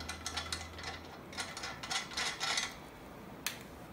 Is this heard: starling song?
no